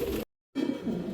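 A domestic pigeon coos softly in short low bursts, split by a brief pause, close by and alone without any talk.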